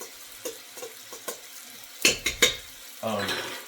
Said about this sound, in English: I'm going to stir that into it to make sure those are covered